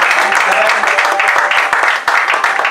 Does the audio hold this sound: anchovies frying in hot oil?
no